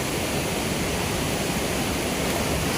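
Water flows and rushes downhill in a continuous, loud, broadband roar near a crab trap set by a stream, steady throughout with no voices.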